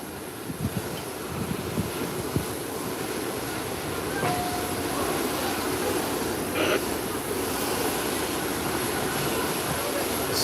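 An InterCaribbean Bombardier jet arriving from Havana taxis and swings around toward its parking gate, a steady, fairly loud broadband jet whine and rumble with faint scattered background noises.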